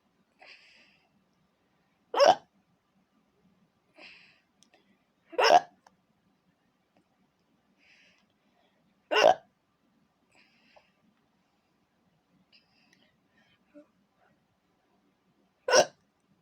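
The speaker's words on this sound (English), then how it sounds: "with some more hiccups" A woman's sharp hiccups, four loud, close ones spaced a few seconds apart, with soft breaths and quiet gaps in between.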